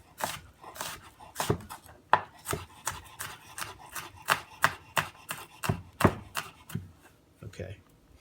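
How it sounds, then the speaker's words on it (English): A knife chops red onion finely on a cutting board, giving sharp, irregular close taps in quick bursts along with a few light scraping sounds. "what I'm going to do now is just I'm going to chop it up a little bit more"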